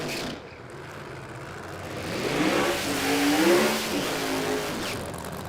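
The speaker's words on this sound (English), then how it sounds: "You can hear him pedal it in the burnout there, Nasser Matter." A drag racing car does a burnout at a live event, its engine revving hard and climbing in pitch over a few seconds, loud and close, with no talk over it.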